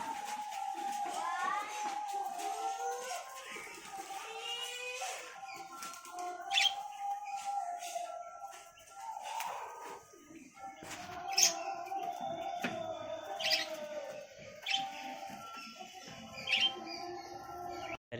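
Indoors, a budgerigar chirps and twitters in quick repeated bursts with short whistled notes, fairly faint and close, with brief rustles of wings between calls.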